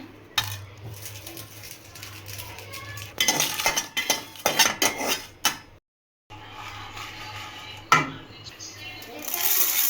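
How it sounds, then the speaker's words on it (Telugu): Dried red chillies roast in a pan and are stirred, sounding as close metallic scrapes and clinks of a spoon against the pan in irregular bursts, with a brief silent gap midway. "ఎండుమిర్చి వేయించుకుందాం."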